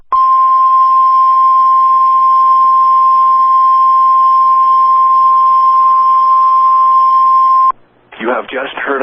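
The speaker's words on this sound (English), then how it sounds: "You have just heard a test of the National Weather Service Radio Warning Alarm feature." A NOAA National Weather Service radio warning alarm test tone plays as one loud, steady, unbroken beep for about seven and a half seconds. It cuts off abruptly and a voice begins speaking.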